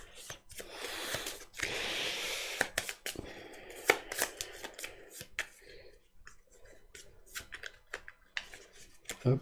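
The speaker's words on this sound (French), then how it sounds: "je reprends mon deck, je le brasse" A deck of cards is shuffled by hand at a tabletop during a Goblivion game, giving bursts of crisp riffling and ruffling rustles close by, with pauses and a few light taps between them.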